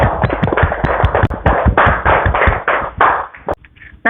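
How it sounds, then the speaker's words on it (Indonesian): A classroom of students claps for a student group, a dense burst of close, brisk applause that runs for several seconds before tapering off into a few scattered claps. "Kita tepuk tangan dulu untuk kelompok 2"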